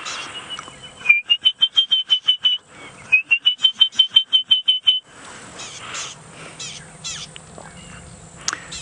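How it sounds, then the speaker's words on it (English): Midday call of an orange-breasted bush shrike in African bush, two runs of rapid, evenly spaced clear whistled notes, followed by softer mixed bird chatter in the background. "the sound of the midday call of the orange-breasted bush shrike starts to come out of the bush"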